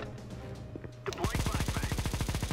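Negev machine gun firing in a video game: after a brief quiet lead-in, a loud, rapid, even stream of automatic shots continues to the end.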